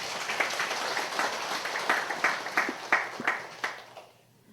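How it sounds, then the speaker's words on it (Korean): A church congregation at a Sunday worship service claps together, dense applause at first that thins into a handful of distinct, fairly loud claps before dying away into quiet. "우리 감사로 하나님 앞에 영광의 박수를 올려드립니다"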